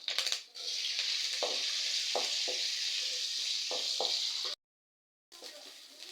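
Onion, green chilli, curry leaves, chana dal, urad dal and cumin frying in a pan, a continuous bright sizzle broken by several short scrapes of a stirring spoon, then a brief gap before the sizzle returns.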